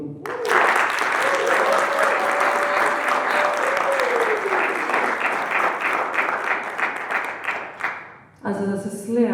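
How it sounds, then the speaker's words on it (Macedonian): Loud, sustained applause from a poetry slam audience, dense clapping filling the room for about eight seconds with a voice briefly audible underneath, then tapering off as speech resumes. "Еден аплауз за Лори."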